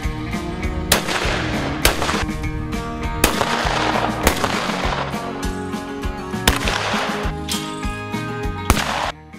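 Shotgun fire at the Görbeér clay target shooting range in Hungary: several loud, sharp blasts spaced a second or more apart, each with a short decay, over a steady tonal background.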